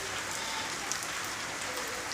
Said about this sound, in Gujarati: થોડો વરસાદ વરસી રહ્યો છે